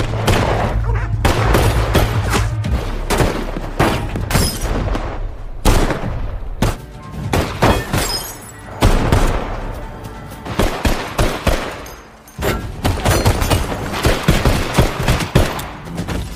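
Rapid volleys of gunfire in a film shootout scene: dense, loud bursts of shots and booms over a low rumbling score, with brief lulls between flurries.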